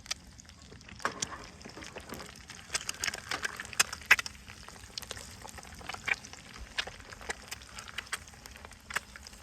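Two eggs frying in grease under a lid, a faint, steady crackle with scattered small pops, quiet and close.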